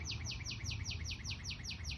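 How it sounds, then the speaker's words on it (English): A bird sings a steady series of repeated descending chirps, about four per second, close and clear over a low background hum. "listen to that bird singing"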